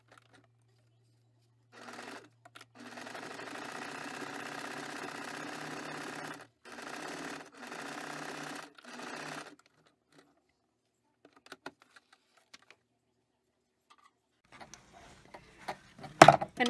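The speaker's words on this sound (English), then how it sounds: "I'm going to take this rosette trim and I'm going to sew it" A sewing machine stitching rosette trim onto a journal page runs in steady, close whirring bursts: one long run, then two shorter ones separated by brief stops, followed by quiet handling ticks and clicks.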